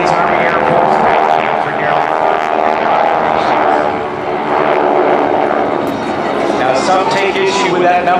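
Vintage propeller aircraft fly past at the Jones Beach airshow with a loud, sustained engine drone that swells and fades slightly as it passes.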